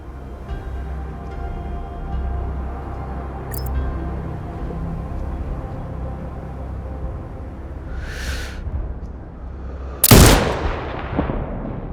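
A single sharp, loud sniper rifle shot cracks out near the end of a Sniper Ghost Warrior Contracts 2 game session, with a smaller report before it over a low rumbling ambient background.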